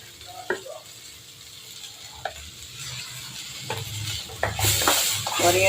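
Onion sautéing in a pan for chutney, a low steady sizzle broken by several sharp scrapes and stirs of a spatula, growing louder toward the end, with a voice faintly in the background.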